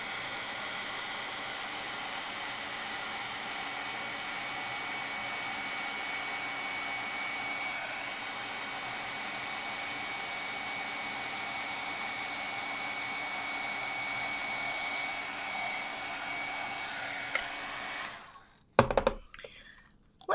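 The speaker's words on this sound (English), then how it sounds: "let me get my heat tool warmed up and we'll melt this powder." A heat tool blows a steady, loud whooshing hiss for a long stretch while melting embossing powder on a handmade card, then shuts off and gives way to a few close clicks and handling noises.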